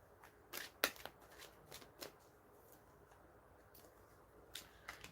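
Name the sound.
shuffling a deck of tarot cards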